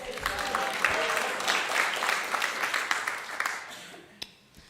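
A congregation at the Eliot Unitarian Chapel annual meeting in Kirkwood, Missouri, claps in a dense, moderate wash for several seconds before it thins and fades, with a few isolated claps at the end.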